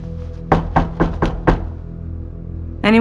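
Five firm knocks on a door in the audio game Evidence 111, evenly spaced and close, each a sharp thud, followed by a quiet pause before another sound begins.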